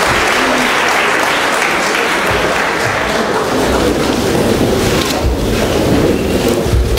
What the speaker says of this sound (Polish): Gorące brawa dla nauczycieli wyróżnionych.